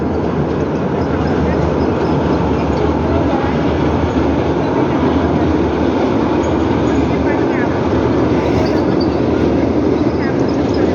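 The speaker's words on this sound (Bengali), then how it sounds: "পদ্মা ব্রিজের উপর দিয়ে মেট্রো রেল যাচ্ছে" A metro train rumbles steadily and loudly overhead on the Padma Bridge the whole time, a continuous heavy roar of rail travel with no pauses.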